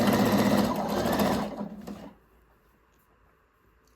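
A sewing machine stitches mesh shorts with lining layered on top, a loud close mechanical whir that runs for about two seconds, then stops and leaves quiet.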